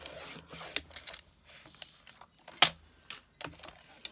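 Paper with a small gold edge is cut off at the half-inch mark while a holiday planner is made: faint rustling and handling with one sharp, crisp cut partway through, plus a few softer snips and taps.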